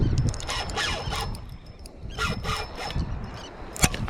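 A surf fishing reel's drag buzzes and rubs with a ragged, continuous whir as a fish strips line off a gotcha plug, loud and close over breaking surf, with a sharp click near the end.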